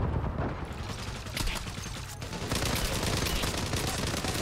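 Dense gunfire and fusillade bursts rattle on in a Gallipoli (Çanakkale) war video game, loud and continuous throughout, with bursts crowding closely together.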